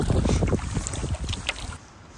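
Cold gusty wind roars across the microphone while canoeing on a pond in the Adirondacks, a loud steady rush with faint paddle and water sounds that eases off near the end.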